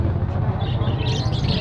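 Pigeons at a bird market, including brown tinsel birds, give soft chirps and coos over a steady low hum of crowd noise and handling, with no clear speech.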